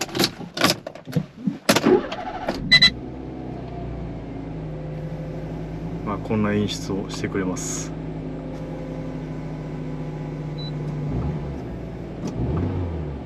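A turbocharged Daihatsu Copen engine cranks and catches, settling into a steady low idle rumble, with a brief rev partway through; a voice speaks at the start and again near the end.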